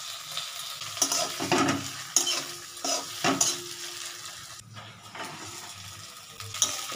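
Chopped tomatoes drop into a hot pan of ghee with a little sugar and hiss loudly, broken by sharp clinks and scrapes of a spoon stirring against the metal.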